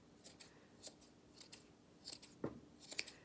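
Scissors snip through yarn loops while trimming a pom pom for a rain cloud craft: a string of quick, crisp, close cuts, some paired, fairly quiet with no talking.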